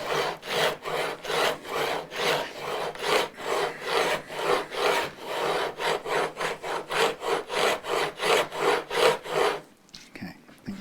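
A file rasps steadily back and forth over the fret edges of a Telecaster guitar neck during a re-fret, with even rhythmic strokes, close and loud, stopping abruptly near the end.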